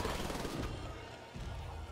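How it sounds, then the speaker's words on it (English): A minigun firing in Wolfenstein: The Old Blood, a continuous dense roar of rapid fire with a brief dip midway before resuming, fairly faint overall. "this minigun's very helpful"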